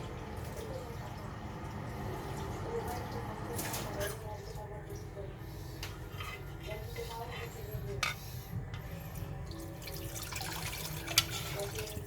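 Water splashes and trickles into a pot of chicken curry for several seconds, softly and close by, with faint clinks and background noise around it.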